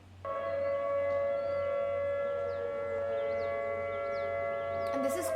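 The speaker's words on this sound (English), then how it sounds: "there's the attack tone, which is it goes up and down, back and forth" Civil defense tornado siren sounding the attack tone, a loud sustained multi-tone wail held steadily for several seconds, with faint background sounds and a brief noise at the end.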